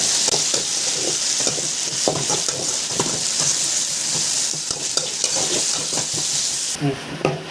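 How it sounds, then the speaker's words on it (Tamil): Chopped tomatoes and onions sizzle and fry in a pan while being stirred, a steady hiss broken by frequent scraping strokes, close and fairly loud throughout before stopping abruptly near the end. "தக்காளி ஆட் பண்ணி இதையும் வந்து நல்லா வதக்கிக்கலாம்"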